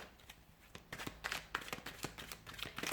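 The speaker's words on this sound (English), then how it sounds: "we'll give the cards a shuffle" Tarot cards shuffled by hand: soft, steady riffling and flicking at close range, quiet and continuous with small taps throughout.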